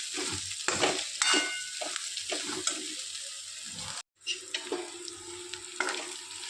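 A spoon stirs pigeon peas chutney with turmeric and spice powder in a hot pan, scraping and sizzling steadily in close repeated strokes, with a short break before the frying hiss resumes.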